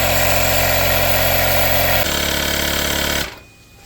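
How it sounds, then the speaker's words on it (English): A Vevor 3-in-1 car jack's built-in air compressor runs with a loud, steady mechanical buzz, shifting tone once partway through before cutting off abruptly. "Yes, it's an air compressor, so let's check that out first."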